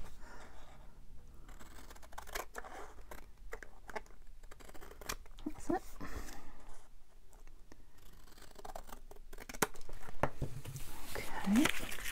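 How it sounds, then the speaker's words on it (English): Scissors snip through thin card at a craft table, a few short cutting strokes with quiet paper rustle, while a person speaks softly between cuts. "Try not to get glue on my scissors."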